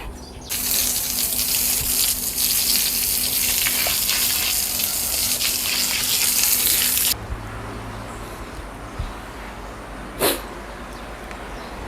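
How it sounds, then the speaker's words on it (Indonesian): Water sprayed around the grounds of a house, a steady broadband hiss that runs loud for about seven seconds and then cuts off, leaving quiet low background with a brief splash later. "So ini saya mau siram."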